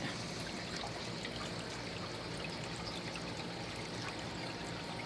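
A mountain creek flows with a steady, even rush and trickle of water, close and unbroken, with no voices over it.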